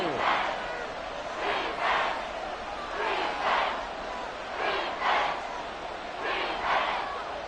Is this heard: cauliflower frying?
no